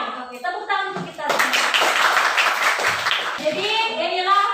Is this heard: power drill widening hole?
no